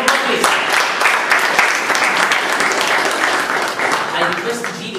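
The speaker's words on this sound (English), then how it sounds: "Round of applause, please." Sustained applause from an audience at a Toastmasters club meeting, dense steady clapping filling the room for the whole stretch, with some voices mixed in under it.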